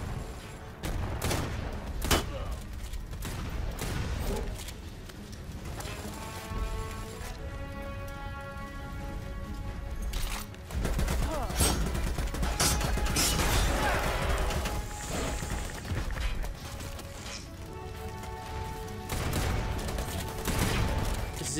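Gunfire in the video game Predator: Hunting Grounds, with repeated sharp bursts and rapid volleys alongside mechanical clatter and hissing, loud and close across about twenty seconds.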